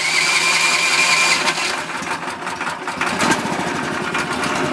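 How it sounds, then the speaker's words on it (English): A Harbor Freight trencher's 9 HP engine cranks over and catches, then settles into a steady, fairly loud mechanical idle with a buzzing, rattly tone, up close and without any talking. "I'll just give you a fast demo on starting it."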